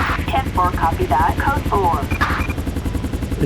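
A police helicopter rotor in GTA 5 beats in a rapid, regular chop that runs throughout and stays prominent, while someone speaks over it.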